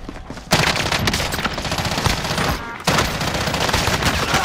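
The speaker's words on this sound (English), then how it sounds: "I'm taking fire!" Heavy automatic gunfire in the Call of Duty Warzone video game, loud and dense, with sustained bursts of rapid shots that pause briefly near the half-second mark and again near three seconds before resuming.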